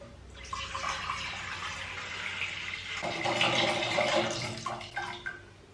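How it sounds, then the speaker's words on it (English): Water runs from a tap into a kitchen pot for blanching spinach and bean sprouts, a steady rushing splash that deepens in tone partway through as the pot fills, close and alone. "you need a pot and fill it with water"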